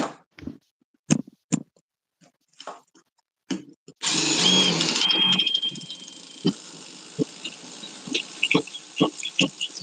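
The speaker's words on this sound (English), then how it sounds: "This is good for 1/4 inch common steel on angle iron. And this is a really good drill bit." Short knocks and clicks, then a loud power drill whines for a couple of seconds drilling steel angle iron and stops, followed by scattered metallic taps.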